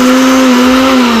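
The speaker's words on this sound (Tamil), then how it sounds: "இப்போ வந்து நம்ம அந்த மிக்சியில் போட்ட கீரையை வந்து நம்ம அரைக்க போகிறோம்." A mixer grinder grinding greens runs with a loud, close, steady motor whine at a constant pitch through the whole short burst.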